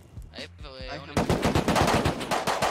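Rapid automatic gunfire bursts out in a video game, a fast stream of loud, close shots rattling on continuously after a brief spoken exclamation.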